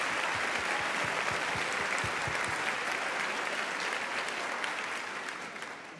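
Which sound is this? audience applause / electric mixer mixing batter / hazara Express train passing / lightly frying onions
audience applause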